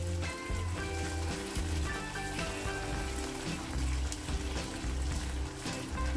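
Masala for restaurant-style chicken barra sizzles and crackles in oil in a pan, a steady, quiet frying hiss with faint tonal music underneath.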